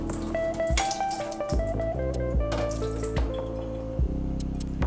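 Brine pours and drips out of a jar of fermenting pickles and hot peppers, with uneven gurgling splashes and trickles close by, heard alone without talk.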